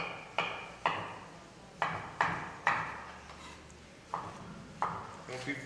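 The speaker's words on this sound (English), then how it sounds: "And then I just kind of take these and chop them up." Knife chopping vegetables into small half-inch pieces on a cutting board, with about eight separate sharp chops at an uneven pace. The cuts are clear and close, with no talking over them.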